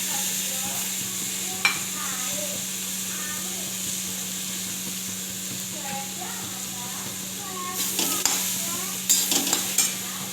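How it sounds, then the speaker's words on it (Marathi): Lentils in a little ghee in a wok (kadhai) are stirred and fried with a steady soft sizzle and occasional scraping clinks of the spoon. People talk in the background throughout. "इकडं कढईला थोडंसं तूप लावून घेतलेलं आहे त्यात डाळ टाकून घेतली"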